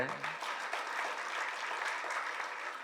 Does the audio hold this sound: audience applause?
yes